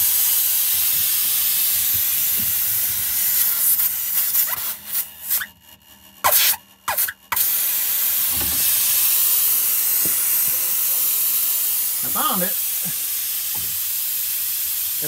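Loud, steady air-brake hiss on a Scenicruiser bus with the brake pedal held down, a continuous close rush broken by a few short gaps near the middle, then resuming with faint creaks.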